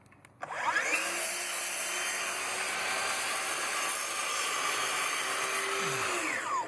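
A power saw trims a wooden piece so it clears a wall, its steady whine starting abruptly and running continuously near and loud before winding down at the end.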